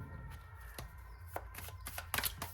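Tarot cards being shuffled and drawn: soft, close papery riffles and flicks in short irregular bursts, quiet over a low room hum.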